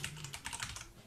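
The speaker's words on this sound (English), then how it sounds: "Who's furiously typing?" Rapid typing on a computer keyboard comes through as a quiet, dense patter of key clicks, with a sharper tap at the end and no talking.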